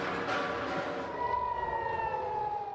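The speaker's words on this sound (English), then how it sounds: "Sirens wailing, interceptors picking off some missiles, explosions lighting up the night sky." A steady air raid siren wails in the distance during an Iranian missile attack on Israel, its tone holding and rising, with faint background noise and no speech.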